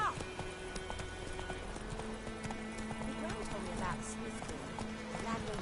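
A horse gallops in The Witcher 3 video game, with steady rhythmic hoofbeats and creaking tack over a soft ambient bed, as a voice talks throughout.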